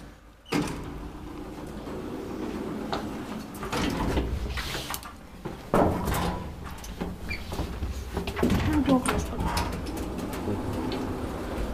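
Doors of an old 1997 Otis traction elevator in Lahti, Finland, creak and rumble in steady, squeaky bursts, sliding and clattering near and loud throughout with no talk.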